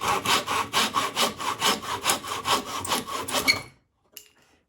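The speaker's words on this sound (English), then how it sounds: "We will lean the saw up against this top piece, and we're going to cut at a kind of an angle here and trim off" A hand saw cuts through wood for a simple box in rapid, even back-and-forth strokes, rasping close and clear, then stops abruptly, followed by a small knock.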